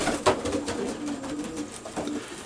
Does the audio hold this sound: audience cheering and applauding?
no